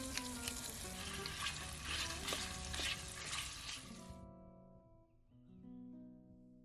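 Small chunks of pork rib and drumstick fry gently in a good slug of olive oil covering the pan bottom for a Spanish potato stew, a close steady sizzle that cuts off abruptly, leaving faint tonal background.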